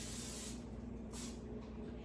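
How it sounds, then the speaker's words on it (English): Two short bursts of aerosol spray hissing close up, the first about half a second long and the second briefer, over a steady low hum. "So we're just gonna give it a quick spray."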